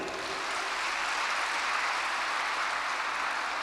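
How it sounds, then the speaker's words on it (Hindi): Steady, dense applause from a large audience at a Brahma Kumaris students' congregation valedictory session, a continuous even roar of many hands clapping, loud and unbroken throughout. "तो एक बार आप अपने लिए जोरदार ताली बजाएं"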